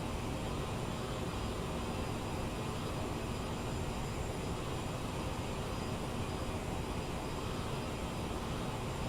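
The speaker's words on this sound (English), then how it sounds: "This is the CRJ700 from Aerosoft, a payware aircraft for flight simulator." Steady jet engine drone of an Aerosoft Bombardier CRJ700 in Microsoft Flight Simulator 2020 during a shallow descent, a constant broadband roar with faint tonal whine, even and unbroken, with no voices.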